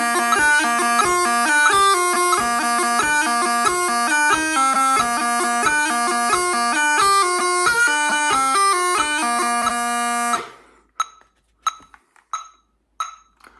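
A 6/8 jig tune, Donald McKillop, played on a bright, piercing reed instrument over a ticking metronome at 90 beats per minute, steady and close, then the lone metronome clicks continue briefly after the melody stops.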